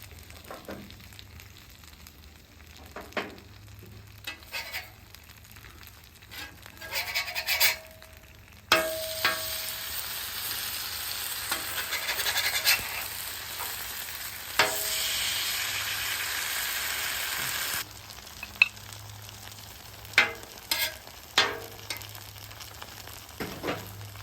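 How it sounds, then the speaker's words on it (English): Breakfast frying in fat on a Blackstone flat-top griddle, a steady close sizzle with scraping and stirring touches, swelling louder in the middle as the heat is turned up, then easing back to quieter crackle. "Just keep bringing that fat towards you so it has something to fry in."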